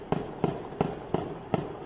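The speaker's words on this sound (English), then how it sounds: "I heard these massive explosions." Five sharp bangs go off at a steady, even pace, each a quick crack with a brief tail.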